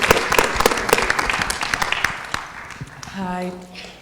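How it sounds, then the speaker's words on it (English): An audience at a film festival Q&A and panel gives a short round of applause for the event sponsor, a dense patter of clapping that thins out and fades, followed by a voice at the end. "Nice round of applause for our sponsor"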